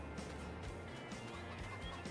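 Chickens clucking inside a coop in the farming video game Farming Simulator 22, a busy steady chorus of overlapping bird calls under a constant background hum, with no talking.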